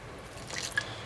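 Wet fishing bait dough is kneaded by hand in a bowl, giving soft, squelchy, sticky squishing with a faint smack near the end, quiet and close.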